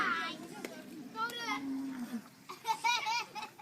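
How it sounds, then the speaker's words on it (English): Cattle low and moo repeatedly at a dusty, smoky cattle camp, several drawn-out calls close by, mixed with chatter and voices of children and people nearby. "So many cows."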